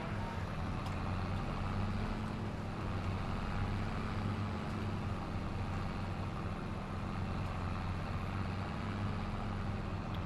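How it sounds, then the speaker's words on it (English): An old tractor engine runs in a farming video game, a steady low diesel drone and rumble that holds evenly throughout with no breaks or talk. "Come on, the old tractor."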